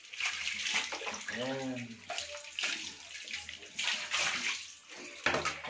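A dog being bathed, with continuous water splashing and running water close by while a person talks over it throughout.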